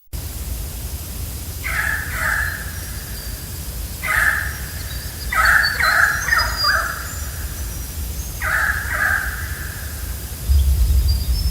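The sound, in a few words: currawongs calling in alarm at dusk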